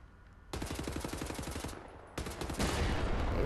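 An automated turret in Wolfenstein: The New Order fires on the player: a fast, loud burst of rapid machine-gun shots, a short pause, then heavier continuous gunfire.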